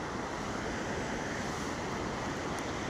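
Steady, dense rush of snowmelt water flowing down a mountain stream near Manali, a constant broadband roar with wind-like hiss and no voices.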